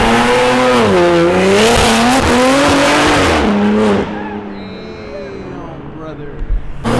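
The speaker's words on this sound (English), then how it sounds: "Bro, that supercharger sounds crazy!" A loud supercharged BMW M3 at a private car meet revs hard in rising and falling sweeps for about four seconds, then drops to a quieter, lingering engine tone, with voices in the background.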